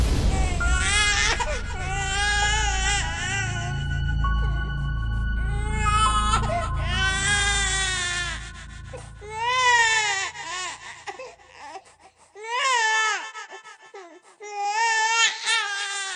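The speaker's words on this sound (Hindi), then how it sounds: "तभी एक छोटे से बच्चे के रोने की आवाज़ पूरे ग्राउंड में गूंजने लगती है।" A small child cries loudly in long, wailing sobs with whimpering breaks and short pauses, used as a horror-story sound effect set in a haunted school ground at night, with no talking over it.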